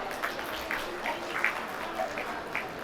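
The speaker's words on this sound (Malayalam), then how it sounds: "ഇവർക്ക് വേണ്ടി നല്ലൊരു കയ്യടി നമുക്ക് കൊടുക്കാം." Wedding guests applauding the couple at a school venue, a steady wash of many hands clapping at moderate distance, sustained and even for the whole stretch with a few louder claps standing out.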